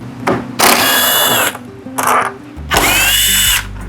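Power driver backing T27 screws out of a 2024 Harley-Davidson CVO Street Glide fairing: several loud, close bursts of whirring, each a second or so long, separated by short pauses and ratchety clicks.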